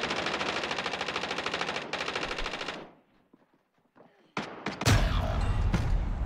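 Rapid automatic gunfire in a Warzone match rattles loudly for about three seconds, then breaks off into near silence before sharp shots and a heavy burst return, close and intense.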